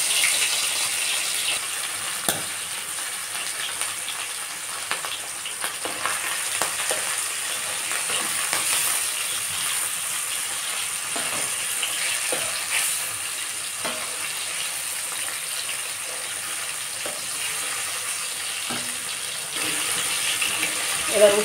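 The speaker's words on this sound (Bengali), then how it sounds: "মাছগুলোকে এবার আমি কয়েক সেকেন্ডের জন্য ভেজে নেব।" Pieces of hilsa fish sizzle steadily in hot oil in a pan, a continuous bright crackling hiss with small pops and occasional utensil clinks.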